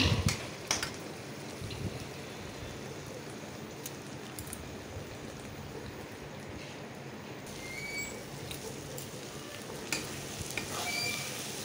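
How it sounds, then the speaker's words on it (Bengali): Meat rubbed with salt, turmeric and oil sizzles steadily in a pan, a continuous close frying hiss with occasional stirring scrapes and clinks, no talking. "এই যে মাংসটা প্রায় ভাজা ভাজা হয়ে গেছে।"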